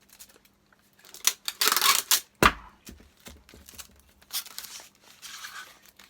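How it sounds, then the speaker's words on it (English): A parcel wrapped in card being taped up: sporadic close tape-pulling rips and crinkly handling noises with a sharp knock partway through, quiet and without speech. "Tape that up."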